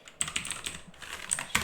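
Quiet typing on a computer keyboard: a quick, uneven run of soft key clicks, close and alone.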